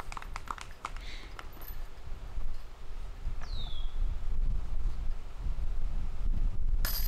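Steady wind buffets the microphone on a golf course during a tournament, a constant low rumble with faint outdoor background and a few light ticks.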